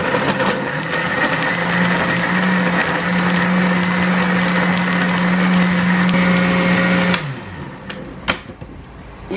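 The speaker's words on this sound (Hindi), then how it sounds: "सारा कुछ डाल के इसको जूसर में डाल के अब इसको बंद कर दिया।" A juicer blender mixing mango milkshake with ice cream, a loud steady motor whir running for about seven seconds before cutting off, followed by a few clunks and knocks.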